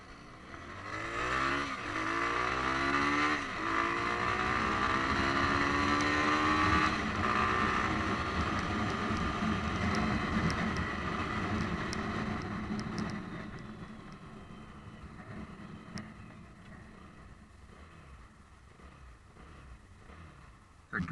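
A Lifan KPM200 motorcycle being ridden, its engine rising in pitch through acceleration and gear changes under buffeting wind noise, then settling to a quieter, steadier hum toward the end.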